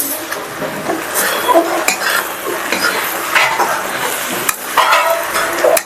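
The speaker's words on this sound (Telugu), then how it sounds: "ఇట్లా బాగా కలుపుకోవాలి." Vada curry being stirred in a pan, with repeated scraping and clinking of a spoon against metal under a soft sizzle, close and irregular, without any talking.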